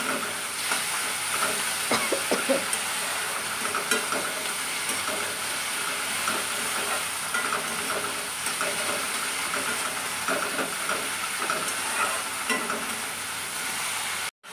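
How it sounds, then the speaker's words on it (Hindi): Rohu fish frying in hot oil in a kitchen pan, a steady bright sizzle with crackling pops and occasional stirring, continuing unbroken for the whole stretch. "पूरा अच्छे से लाल होने तक फ्राई करना है।"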